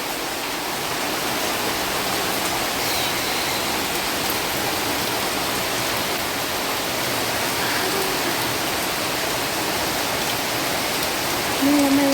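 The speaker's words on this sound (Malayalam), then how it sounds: "മഴ മഴ മഴ." A heavy downpour of monsoon rain roars in a continuous broadband wash, steady and close, with only a faint hint of a voice near the end.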